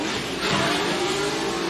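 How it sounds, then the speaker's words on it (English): Naturally aspirated V8 engine in an S15 drift car revs loudly and close at a drift event in Malaysia, a steady roaring drone with a slight swell midway through the short burst, no talking over it. "S15, this is a naturally aspirated V8 engine."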